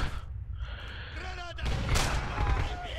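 Grenade explosion in the Red Orchestra 2 war video game, a loud booming blast amid gunfire, with a voice reacting over it.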